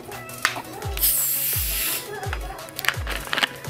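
A 2.25-litre Thums Up cola bottle is opened with a loud, sustained fizzing hiss lasting about a second, then softer rustling and a few sharp handling clicks, close to the microphone, with no talking.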